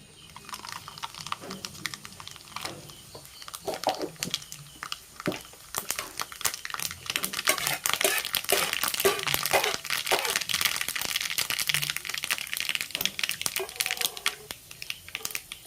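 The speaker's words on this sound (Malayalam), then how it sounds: "കടുക് ഇട്ട് കൊടുക്കാം" Mustard seeds spluttering in hot oil while cooking a Kerala raw banana and dal curry, with a dense crackling and popping that builds and stays steady, close by.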